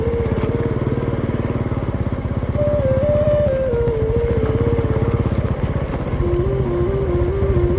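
A Honda Supra DD 125 motorcycle rides along an extreme rural village road in Wonogiri, its engine droning steadily and loud throughout, with the pitch rising and falling slightly as the rider shifts and accelerates.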